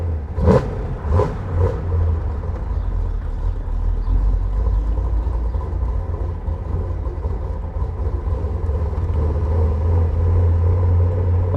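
A 1963 Chevrolet Corvette Stingray V8 with an aftermarket camshaft blips three sharp revs near the start, then settles into a loud, lumpy, rumbling idle that runs alone for the rest.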